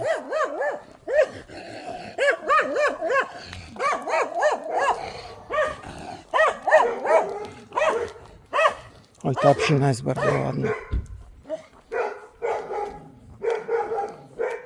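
A pet dog barks, yips and whimpers excitedly in repeated bursts, close and fairly loud, while someone talks over and between the barks.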